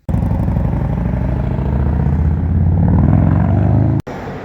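A 135ci motorcycle fitted with Pro Flow headers rides off, giving a loud, close engine roar that holds and swells slightly before cutting off abruptly near the end.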